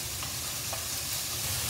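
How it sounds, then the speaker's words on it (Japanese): Vegetables for yakisoba sizzle steadily in a hot pan during a light stir-fry, a dense, even hiss close by with no talking. "はい、軽く炒めました。"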